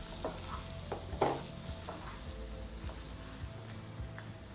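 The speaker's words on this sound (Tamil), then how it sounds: "இப்போ நம்ம இந்த உருளைக்கிழங்க சேர்க்குறோம்." Potatoes frying with chilli powder in a hot pan give a steady sizzle, broken by a few sharp scraping stirs near the start and lighter stirring knocks later, with no voices.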